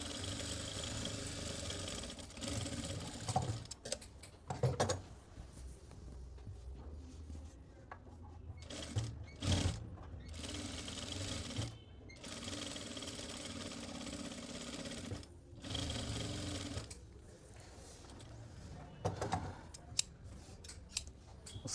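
A sewing machine stitches a lined suit in a tailoring boutique, running in several separate bursts of whirring with quiet handling pauses between them, close and fairly soft, with no speech.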